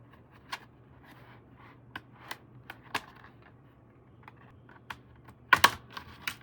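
Laptop keyboard on an HP 250 G9 pried out of its retaining clips: a string of small, sharp plastic clicks and snaps at irregular intervals, close up, ending with a louder cluster of pops as it comes free.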